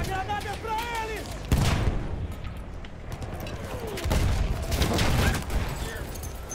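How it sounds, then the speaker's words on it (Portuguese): Grenade blast in the Battlefield 1 video game, a sudden loud burst amid ongoing gunfire and battle noise, followed by another rumbling explosion a few seconds later. "Essa granada é pra eles!"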